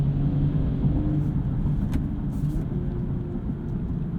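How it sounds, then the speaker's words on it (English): A BMW M240i xDrive coupe's inline-six in Sport Plus mode, a steady low engine drone heard from inside the cabin, even and unbroken with no revving peaks. "Let's listen to this Inline-6."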